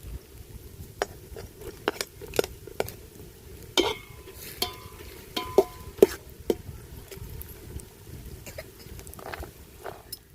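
Goat mutton curry masala with whole spices cooking outdoors by a river as tomato goes in, a low steady sizzle under scattered sharp clinks and scrapes of a spoon against the pot.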